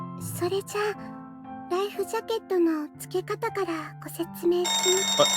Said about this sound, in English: It's a very retro sounding phone.